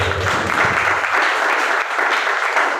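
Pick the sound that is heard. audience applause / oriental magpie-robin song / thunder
audience applause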